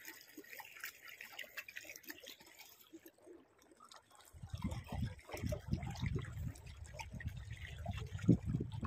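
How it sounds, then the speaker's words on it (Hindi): Irrigation water runs into a fenugreek field on a farm in the early morning. It starts as a faint trickle and swells into a louder, steady rushing flow in the second half, with no talk. "आज से पानी निकल रहा है"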